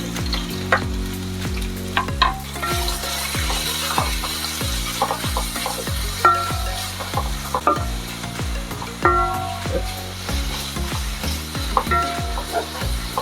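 Thinly sliced onions, two of them, fry and sizzle in hot oil in a pan for chicken kakkarotti, with steady crackling, a faint hiss and repeated scraping stirs of a spoon against the pan throughout, no voices.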